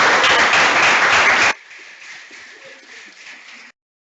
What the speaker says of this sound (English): And please, for a round of applause for all such persons.